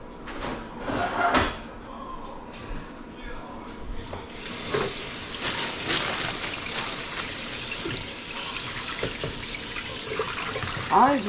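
Tap water running into a kitchen sink while grapes are rinsed, a steady hiss of flowing water that starts partway through after some clatter and handling sounds.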